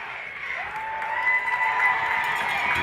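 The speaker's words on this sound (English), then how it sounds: "And here comes the Falcon crowd. It's getting electric." Home crowd for the Jefferson Falcons cheering and applauding at a high school football rivalry game against Edgewood, a broad, steady roar that swells slightly and holds throughout.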